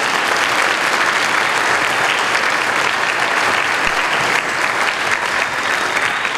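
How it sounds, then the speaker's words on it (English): Steady, dense applause from a large concert audience, loud and continuous throughout with no pauses. "Let's give them another round of applause."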